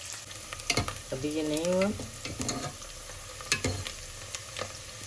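Meat and potatoes for aloo gosht brown in a pan with a low, steady sizzle broken by sharp clinks and scrapes of stirring, while someone speaks briefly.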